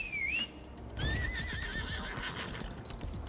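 A horse in the video game Lost Ark gives two rising-and-falling whinnies, the second longer, while hooves clip-clop steadily underneath, close and clear.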